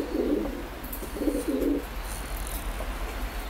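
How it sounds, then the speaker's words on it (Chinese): Domestic racing pigeon from a breeding loft cooing in two close, throaty bursts, then falling quiet against a steady low hum and faint background hiss. "很喜欢这羽鸽子。"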